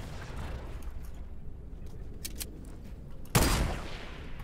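Shotgun fire in the video game Fortnite: a low background rumble of battle with a few faint clicks, then one sharp loud blast near the end that rings out and decays.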